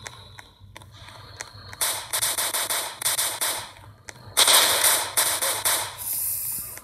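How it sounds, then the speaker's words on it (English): Gunfire in a Roblox SCP game, sharp cracking shots in irregular bursts that swell into loud rapid volleys, with a distant background hum between them. "That's a lot of shooting going on."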